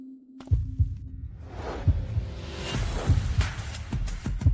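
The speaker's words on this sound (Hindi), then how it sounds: "मेरे दिल की धड़कन।" A heartbeat sound effect thumps in a steady rhythm of low, dull double beats, close and moderately loud over a faint whooshing background.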